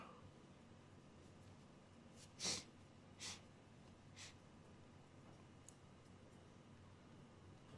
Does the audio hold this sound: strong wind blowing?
no